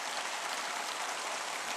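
A church congregation applauds during a sermon, a dense, steady wash of clapping that holds at an even level for a couple of seconds, moderately distant and without voices over it.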